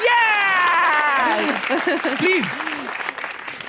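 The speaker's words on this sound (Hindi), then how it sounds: "तालियां." An audience at a talk-show style event claps under a voice speaking over the noise, the applause strongest at first and fading out within a few seconds.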